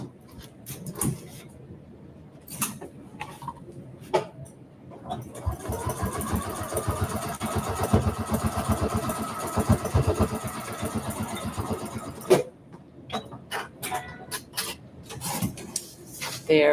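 A sewing machine stitching a corner of a fabric project, a steady mechanical whirring run of several seconds framed by intermittent handling clicks and pauses, close and moderate in volume.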